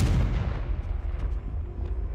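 A deep rumbling explosion from the Confringo spell in Hogwarts Legacy opens loud and decays into a rolling low boom over two seconds, with faint crackles in the tail.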